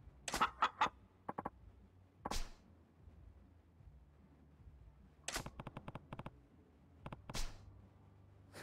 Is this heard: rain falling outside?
no